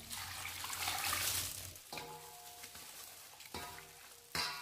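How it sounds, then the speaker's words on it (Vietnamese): Cooled brine poured into a container of bamboo shoots with garlic and chili, a steady splashing gush for a couple of seconds followed by quieter trickles and a few knocks, close by. "Mình đảm bảo cái nước ngâm này thật nguội mình mới đổ vào đây các bạn nhé."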